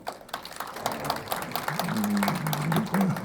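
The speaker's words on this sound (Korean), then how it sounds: "먼저 박수로 좀 환영을 해주시죠" Scattered applause from a small crowd, fairly faint, with a low voice or hum running underneath toward the end.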